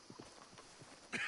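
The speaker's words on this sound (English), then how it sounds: "Hey, get that horse out of here." Horse hooves clip-clopping at a walk in the Red Dead Redemption 2 game, a series of soft, fairly distant hoof thuds in an uneven rhythm, ending with a brief louder scuff.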